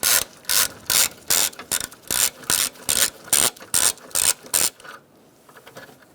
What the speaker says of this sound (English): Using a 10mm socket with a 3/8 drive so that the socket is long enough, you're going to loosen up your nut for your hold down.